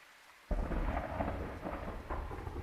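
Thunder in the Phasmophobia ghost-hunting game, a sudden loud crack that rolls into a long, heavy rumble over a bed of steady rain.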